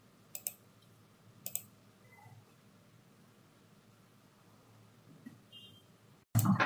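Two crisp computer mouse clicks sound close and quiet about a second apart against near silence, followed later by a faint third tick.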